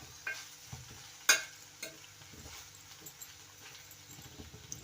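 Spoon stirring flattened rice (poha) in a hot pan for a Telugu-style atukula upma, giving soft scraping and rustling with a few sharper knocks of utensil on pan, fairly close and quiet.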